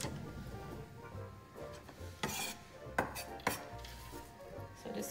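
Diced onion dropped into extra virgin olive oil in a pan for eggplant parmigiana, with a few clattering knocks of utensils against the pan and soft scraping, close and moderately quiet.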